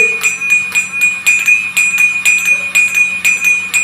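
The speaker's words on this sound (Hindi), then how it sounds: "तो ये ऑटोमेटिक घंटी बजेगी" A small automatic temple bell rings over and over in a quick, steady rhythm, bright and close, each strike ringing on into the next.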